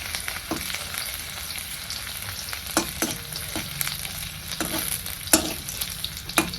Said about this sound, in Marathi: लसूण आपल्याला छान असा लाल होऊ द्यायचा आहे